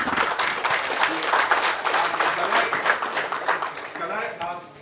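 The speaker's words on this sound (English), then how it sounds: "can we have a round of applause" A conference audience claps for a panel at a round-table session on service delivery at Nigerian ports, moderate applause rising and falling with voices talking over it.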